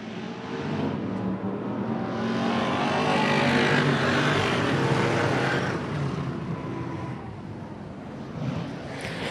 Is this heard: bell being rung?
no